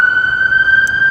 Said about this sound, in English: including all these sirens and the building work.